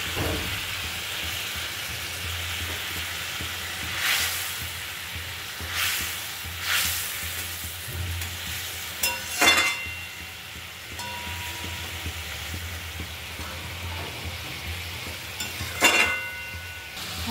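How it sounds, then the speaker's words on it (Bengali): Small pieces of fish fry in a spiced masala. A steady oily sizzle runs throughout, broken by a few brief stirring scrapes and light clinks of the pan. "এবার আমি মাছগুলো দিয়ে দেবো।"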